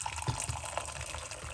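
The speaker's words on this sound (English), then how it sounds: "We're just gonna just simple pour it off naturally, as it is right here." Liquid being poured off from a pot, a brief steady watery trickle and splash heard up close.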